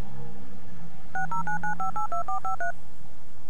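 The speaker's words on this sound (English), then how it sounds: "Gotta open the feckin' phone again. Use the phone." Phone dialing in a video game: a quick run of about a dozen touch-tone beeps in steady rhythm, close and clear over faint background hum.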